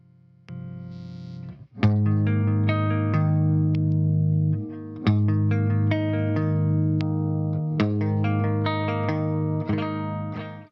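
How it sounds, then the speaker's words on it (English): Electric guitar arpeggiating chords through a LEKATO R COMP compressor pedal, notes even and defined with a smooth sustained tone, played close and alone. "And then you turn on the compression pedal and then it sounds like this all of a sudden."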